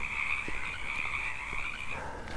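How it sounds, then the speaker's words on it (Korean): Frogs and toads croaking at night near a roadside on a hillside path outside Hollywood, California, a dense steady chorus with a high trilling band running continuously, plus a few nearer low croaks and no talking. "개구리 울음소리야,"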